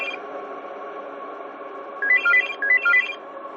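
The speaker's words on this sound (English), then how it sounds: "the phone started ringing" A telephone rings, with two short bursts of bright electronic trilling over a steady humming background, fairly close and clear, with no one speaking.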